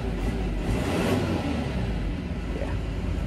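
Steady, low rumbling idle of a Volkswagen twin-turbo 5.0-litre V10 diesel engine, running continuously and close by with no voices.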